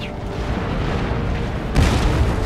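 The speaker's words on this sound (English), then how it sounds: "let my cannons take stupid little crap shots at these men" Cannon fire in the Empire Total War battle game, a dense wash of deep rumbling booms rolling together and rising into a heavier blast near the end, loud and continuous with no talk.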